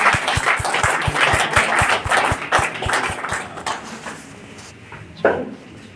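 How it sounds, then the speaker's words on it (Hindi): An audience at the Vikasika Diwas 2024 event claps in a sharp, rhythmic burst of applause that fades out, followed by quieter room noise. "एक बार विकासिका के लिए और डॉक्टर अजय पांडे जी के लिए तालियां होता है।"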